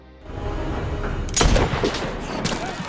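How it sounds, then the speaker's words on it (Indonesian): A burst of gunfire in an action film cracks out amid a rumbling background, followed by a few more scattered shots and booms. "ia pun segera melesatkan tembakannya"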